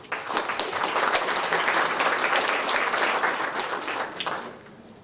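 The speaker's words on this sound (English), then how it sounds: "please give a warm round of applause for our panelists" A conference audience applauds panelists steadily with dense, continuous clapping that holds for several seconds before tapering off at the end.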